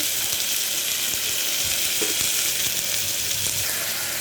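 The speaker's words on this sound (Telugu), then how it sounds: "ఇందులోని మటింకాయలు అలాగే పచ్చిశనగగింజలు అయితే వేసుకున్నాము." Cluster beans and green chickpeas fry in a pan with a dense, continuous loud sizzle and hiss, joined by a few faint stirring knocks.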